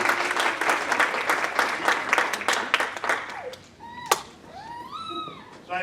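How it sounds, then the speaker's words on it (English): An audience at a college honor society induction ceremony claps in a dense burst that fades after a few seconds, followed by a sharp knock and brief voices. "Let's give her a round of applause for the camera."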